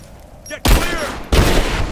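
Gunfire in Rise of the Tomb Raider breaks out in two loud, close bursts of rapid automatic shots, the second starting just after a brief pause, with voices shouting beneath.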